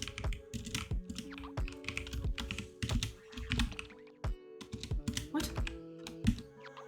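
Quick, uneven bursts of clacking keys on a computer keyboard, close and fairly loud, with a thunk now and then. Someone speaks briefly between the keystrokes.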